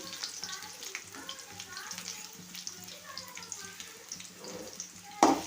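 Curry leaves and two large onions fry in hot oil for an aubergine curry. A steady close sizzle runs under a voice, and a sharp loud crackle bursts in near the end.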